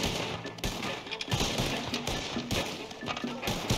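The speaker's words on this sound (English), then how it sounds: "I'm shooting that guy." Gunshots in Red Dead Redemption 2 crack in a run of sharp reports at irregular intervals, fairly close, over game ambience with a voice now and then.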